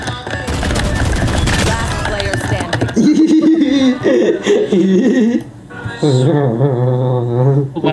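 Rapid bursts of video game gunfire crackle at the start, then give way to voices talking and laughing over game sounds.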